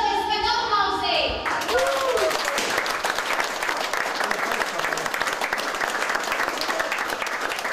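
After a voice calls out to the audience, a large crowd at a sword-and-wings dance performance breaks into loud, sustained applause, dense clapping filling the hall without pause.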